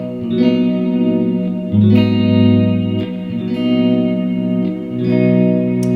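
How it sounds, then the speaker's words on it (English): A Jazzmaster electric guitar runs through a Sonicake Warped Dimension modulation pedal, tremolo into reverb, playing sustained chords that pulse and swell with wavering modulation and a reverberant tail, with no voices. "I have the Jazzmaster plugged into a Black Star amp effect pedal type thing in the effects send return, and it's just going through the tremolo side into a reverb."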